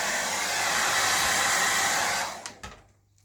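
A hair dryer blows steadily at close range while drying a dog after a home bath, a loud constant whoosh that cuts off abruptly, followed by a couple of brief handling knocks.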